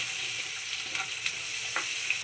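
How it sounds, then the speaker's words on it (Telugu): Onion and green chillies frying in a pan give off a steady, close hiss of sizzling oil, broken by faint stirring clicks, with no voices. "ఇప్పుడు ఇందులో ఉల్లిపాయ, పచ్చిమిర్చి వేసేసుకోవాలి. ఇవి కూడా బాగా వేగనివ్వాలి."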